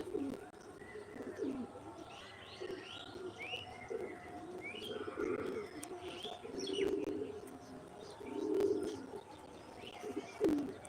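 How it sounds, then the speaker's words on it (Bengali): Pigeons coo repeatedly at a pigeon farm, a steady low murmur of overlapping calls with louder swells, mixed with faint chirps from other birds in the background. "জেঠিমাদের এখানে পায়রা চাষ হয়"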